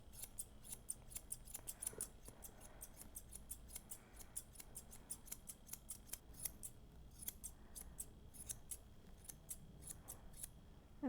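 Grooming scissors trim the hair on a dog's round muzzle with a long nose in a quiet room, giving a rapid run of soft, crisp snips close by, steady with brief pauses.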